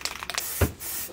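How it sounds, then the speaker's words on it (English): Short hissing bursts from a spray paint can sound inside an electrician's van, a few quick sprays followed by a longer, louder blast, close and alone. "Oh, that's gagging for some spray paint."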